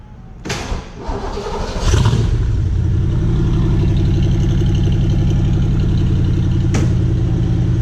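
A Cobra's engine cranks with a few loud whirring bursts, then catches and settles into a steady, rumbling idle close by.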